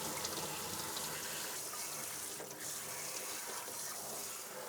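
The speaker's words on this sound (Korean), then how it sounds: "흐르는 수돗물에 이렇게 놓고 하나씩 이렇게 켜켜이 다 씻어 주셔야 돼요." Tap water runs steadily into a sink while salted spring cabbage (bomdong), halved and salted for about three hours, is rinsed leaf by leaf beneath the stream; a close, continuous splashing gush with no voices.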